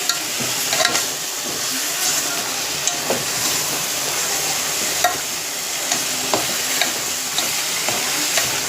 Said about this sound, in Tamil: கறியை போட்டு மிக்ஸ் பண்ணி விட்டுக்கணும்